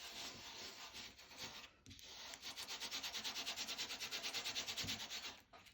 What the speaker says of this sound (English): you literally are just rubbing this glitter into the double-sided adhesive